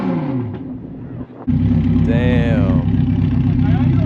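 A Ferrari engine revs up close by, a loud sustained roar with one sharp rising blip in the middle, preceded by a brief dip; a person speaks over the start.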